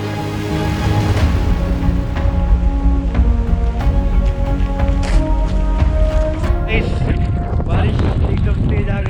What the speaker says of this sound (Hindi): बारिश एकदम तेज आ गई है